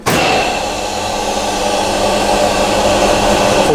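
Ventilation motors starting up in a bunker machine room at a large emergency hospital, a loud, steady broadband roar and whoosh of air with a low hum, beginning abruptly and holding constant.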